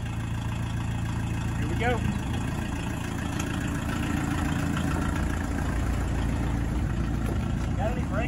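Steady, close engine drone of a barn-find VW Rabbit pickup that sat for 25 years, running continuously during its first drive, with someone speaking briefly over it.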